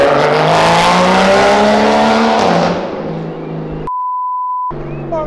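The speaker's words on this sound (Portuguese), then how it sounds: "É um GTI da Porsche, viu?" A Porsche GTI car drives close by, its loud engine note rising then easing off with tire noise, followed by a short steady beep and a quieter passage.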